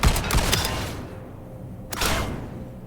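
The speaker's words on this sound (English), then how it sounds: "let's try out the shotguns" Shotguns from a video game mech firing in a testing area, heard as a quick pair of sharp blasts at the start followed by a third burst about two seconds later, each loud and close with a whooshing tail.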